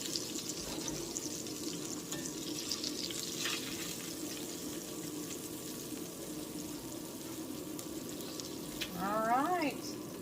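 Feta burgers sizzle steadily in a cast iron skillet, a soft continuous frying hiss with faint kitchen clatter underneath.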